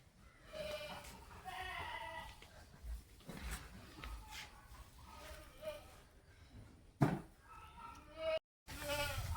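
Young goats bleat at a Kerala home, with several wavering cries spread across the stretch and people talking over and between them.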